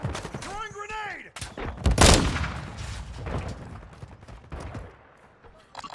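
Loud gunfire and a heavy blast in Call of Duty: Modern Warfare II, with a burst of shots, a big explosion near the two-second mark, and scattered rounds trailing off, all close and forceful.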